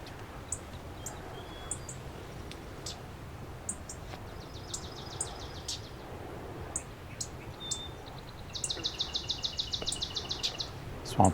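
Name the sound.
swamp sparrow singing in marsh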